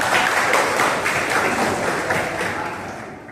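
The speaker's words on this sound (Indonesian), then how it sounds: "Masya Allah, tepuk tangan ya." Classroom of schoolchildren applauding together, a dense, steady patter of many small hands that fades slightly toward the end.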